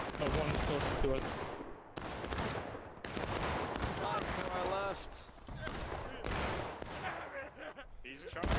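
Musket volleys crack and boom in the War of Rights Civil War shooter, sharp shots landing every second or so amid battlefield chaos, with voices talking over the gunfire.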